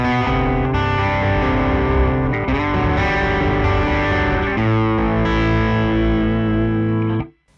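Electric guitar played through a Suhr Riot distortion pedal at high gain, sustained saturated chords ringing loud and dense with a few chord changes, then cut off abruptly near the end.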